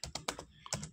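Quick keystrokes on a computer keyboard, about six close, crisp clicks in an uneven rhythm within one second.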